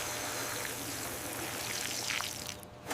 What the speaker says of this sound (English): Watering each row one by one.